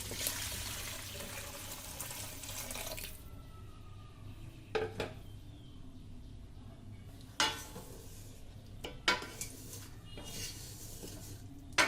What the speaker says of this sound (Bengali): এবারে আমরা পানিটাকে দিয়ে দিব